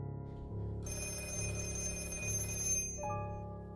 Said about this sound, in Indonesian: Telepon hitam kembali berbunyi.